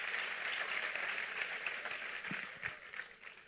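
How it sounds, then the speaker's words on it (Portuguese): A church congregation applauds at the close of a Sunday morning service, a soft, steady wash of many hands clapping that sounds distant and faint and fades slightly toward the end. "Aplauda Ele, vamos ficar em pé e vamos embora."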